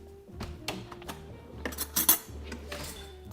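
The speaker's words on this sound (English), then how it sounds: "Let's stir just to blend in the cinnamon and the maple syrup." A spoon stirring cinnamon and maple syrup into an oat-milk slushy mix, scattered clinks and scrapes against the container at an irregular rhythm, close and fairly loud, with no voices.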